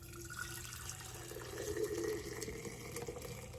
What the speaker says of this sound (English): And now I'm gonna pour it into the jar.